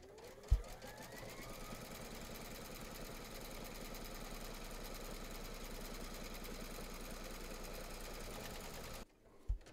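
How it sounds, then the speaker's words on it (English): An embroidery machine stitches round number 5 on a hoop for an in-the-hoop teddy and unicorn bag, a steady, fast, even mechanical chatter running for about nine seconds at low volume before stopping. "pop your hoop into your machine and stitch round number 5"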